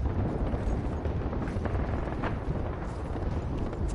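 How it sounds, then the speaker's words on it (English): Distant artillery fire in an online shooter match, a steady low rumble of booms and explosions running throughout without clear separate hits. "Because there's artillery popping there"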